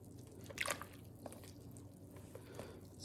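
Sourdough starter being stirred into a milk mixture, a few faint wet squishes and soft drips, close and quiet with no talk.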